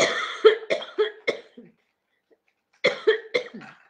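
A person coughs in two fits, four or five sharp hacking coughs each, separated by a brief silence, close and loud.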